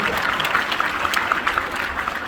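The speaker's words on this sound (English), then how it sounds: "Let's give my friend Aiden a big round of applause." Audience applause at a live magic and music variety show, a steady broadband wash of clapping that holds evenly for a couple of seconds with no voices over it.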